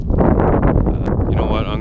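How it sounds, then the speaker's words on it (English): Gusty wind hits a microphone at an outdoor memorial site near the Nass River Valley lava beds, a loud low rumble running under close talking. "It's pretty windy out here"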